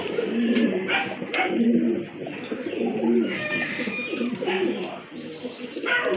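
Pigeons coo steadily and close by, a low, throaty, overlapping murmur, with a voice occasionally speaking underneath.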